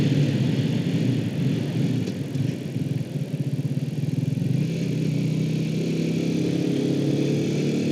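A 2006 Honda CBR 125 JC34 motorcycle with a dead battery runs steadily, its small single-cylinder engine humming loud and close with a slight rise and settle in revs while riding.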